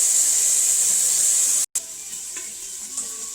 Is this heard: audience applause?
no